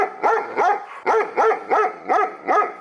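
A dog barks six times in a steady, evenly spaced rhythm, each bark loud and close with a short yelping rise and fall, and no other sounds in between.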